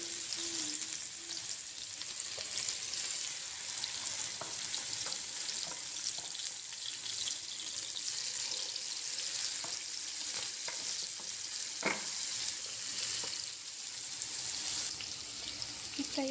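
Green masala fish pieces fry steadily in a pan, a constant soft sizzle throughout with occasional light clicks of a utensil, close and moderately quiet, no talk.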